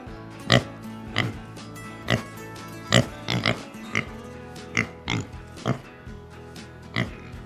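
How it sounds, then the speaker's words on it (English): A pig grunts and oinks in a series of short, sharp bursts spaced about half a second to a second apart, fairly close, over a quiet musical bed. "It was a pig."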